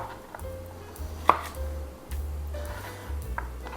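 Knife chopping carrots on a board for a carrot apple salad, a few sparse, soft knocks with a faint clatter in a quiet kitchen.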